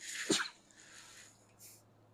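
One quick, sharp sneeze close to the listener, followed by a soft sniff and quiet breathing in a hushed room.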